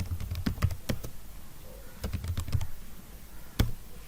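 A value is typed on a computer keyboard as two short, close bursts of crisp key clicks with a pause between them, followed by a single louder keystroke. No talking.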